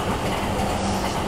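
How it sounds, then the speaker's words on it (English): A JR line train rolls past in Tokyo at night, a steady rumbling rush of wheels on rails with faint clattering, heard up close and continuous. "It's like the JR line train is green."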